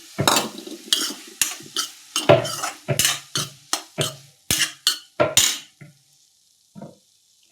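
Soybean pulao with coriander being sautéed in a pan: a steady run of about sixteen sharp spoon scrapes and clinks against the metal, close and fairly loud, then a few faint, scattered taps at the end.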